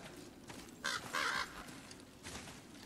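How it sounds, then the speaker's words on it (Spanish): A crow caws in God of War. Two or three harsh caws ring out at middle distance over a low, steady ambient background. "Que escucho un cuervo."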